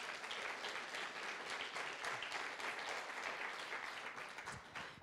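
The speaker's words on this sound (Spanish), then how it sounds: "Dale un aplauso al Señor, por favor." A church congregation applauds the Lord during a sermon on heroes of faith, a dense, sustained round of clapping from many people at an even, moderate level for about five seconds.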